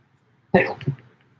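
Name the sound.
sneeze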